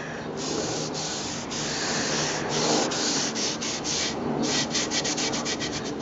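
Tow rag rubbing wood stain into pine, a steady close scrubbing hiss with rhythmic strokes that quicken toward the end; no talk.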